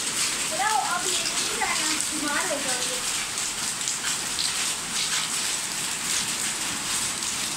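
Hailstones fall steadily outdoors, a loud dense hiss of ice pellets striking surfaces nearby, while voices, including a child's, talk over it near the start.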